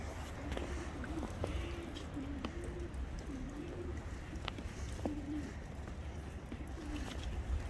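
Pigeons coo in a steady series of soft, rounded calls near a backyard bird feeder, repeating every second or so over low outdoor background noise.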